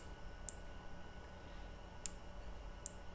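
A Logitech G915 mechanical keyboard switch gives three sharp, crisp clicks spaced irregularly over a quiet background, each a brief isolated snap.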